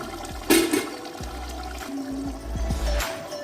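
Water pours in short splashing bursts into a cooking pot of dry beef curry, with light clinks and kitchen noise around it.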